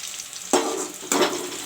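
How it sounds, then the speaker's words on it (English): Onions frying in a pan for a cauliflower, potato, peas and chicken curry, with a steady close sizzle broken by two sharp louder bursts as they are stirred or turned, and no talk. "the onions are turned brown nicely"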